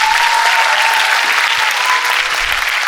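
Dense, sustained audience applause for panelists and guests at the Vartalap conversation session of Shristi Talks 2024, loud and steady throughout, with no talking.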